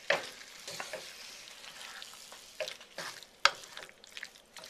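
Beef cubes stirred through wet masala for a vindaloo curry, a soft wet sizzle running underneath intermittent scraping and squelching strokes of a spoon in the pot, close up with a few sharper knocks against the pan.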